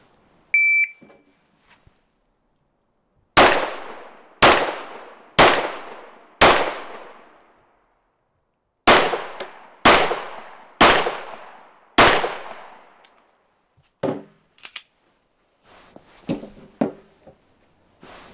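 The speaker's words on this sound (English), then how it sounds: "So it's draw and fire 4 from the standing, then drop to a kneeling and fire 4 more" Eight sharp pistol shots ring out outdoors in two groups of four during a draw-and-fire drill, the first four standing and the next four kneeling, each crack loud with a short decaying tail, followed by fainter clanks.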